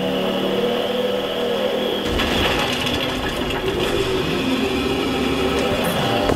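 A loud, steady engine drone with shifting whine from a car in Fortnite, revving and cruising, continuous throughout with no talking.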